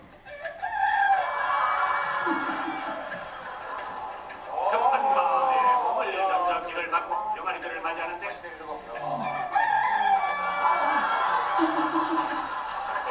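A rooster leading its chicks across a road beside traffic crows in a few drawn-out calls, partly under a narrator's voice.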